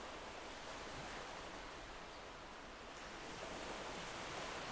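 Ocean waves wash in and pull back in a continuous soft roar of surf, faint and broad with a slight swell in level near the end, no voices over it.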